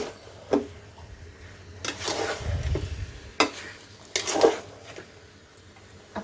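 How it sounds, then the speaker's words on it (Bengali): Mango pickle stirred in a pan with a spoon, several scraping strokes and soft knocks spaced irregularly, with a gentle sizzle underneath, close and fairly quiet. "এখন আমি একটু নেড়ে চেড়ে দিব।"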